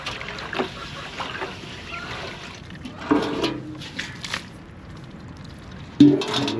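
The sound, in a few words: pouring fresh clean water into the ducks' water dish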